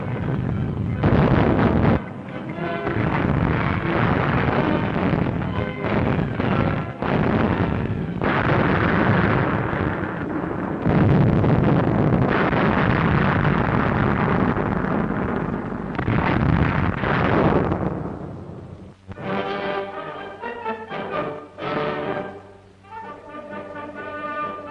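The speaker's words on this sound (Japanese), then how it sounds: "フランダースの平原を圧する壮烈な大砲撃戦が展開されました" Heavy World War II artillery booms in rapid succession across the plains of Flanders, loud and rumbling with windy roar, then thinning into scattered distant blasts toward the end.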